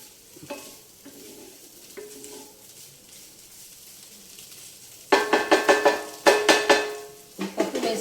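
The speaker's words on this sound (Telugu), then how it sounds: "పప్పును ఆ చెక్కులు చక్కగా రెండు కలిపి ఒక నిమిషం మగ్గనిద్దాం" Lentils and ridge gourd peels stirred together in a pan, starting with faint, sparse scrapes, then turning into loud, rhythmic spoon strokes against the pan over a soft sizzle.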